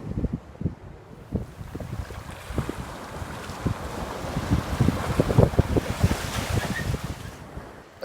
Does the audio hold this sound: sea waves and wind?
yes